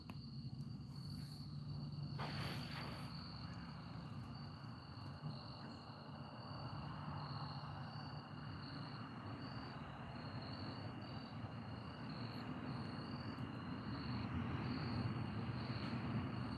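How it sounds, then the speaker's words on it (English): Crickets chirp steadily at night in a garden, a continuous high-pitched trill over a low ambient hum, fairly faint with no talking. "You can hear the crickets."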